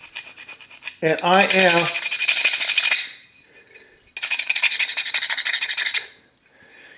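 A metal spatula scrapes hard across a laser-engraved white Norton tile in two long, loud, rasping strokes with a squealing edge, separated by a short pause, with a brief voice at the start.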